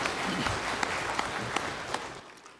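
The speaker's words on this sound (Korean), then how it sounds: "박수를 하나님께 드리겠습니다" Church congregation applauding during a Sunday worship service at Daegu Hana Church, a steady wash of many hands with a few sharper claps standing out, then fading near the end.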